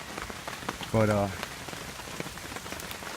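Hard rain drums steadily on a camping tent in roughly 20 mph wind, a dense patter throughout with one brief louder burst near the middle and a faint voice beneath.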